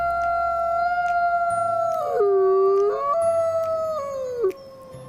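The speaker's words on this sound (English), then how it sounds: "Any of several large predatory Wolf. canids, genus Canis, that are active mostly at night, Wolf. live and hunt in packs" A wolf howls in a long, sustained, tonal call that bends down in pitch, rises again and then falls away, heard clearly and alone with no talking.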